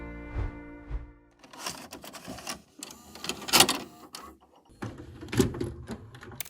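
A 1980s printer working on perforated paper, grinding back and forth in short mechanical bursts with buzzing, clattering print-head passes and brief pauses between them, close and alone.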